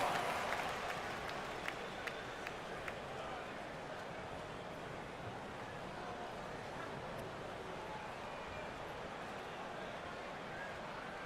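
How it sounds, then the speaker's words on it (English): A crowd at a college basketball game applauds and cheers in a steady, broad wash that starts loud and settles to a constant roar, with scattered sharp claps near the start. "Give yourself a round of applause"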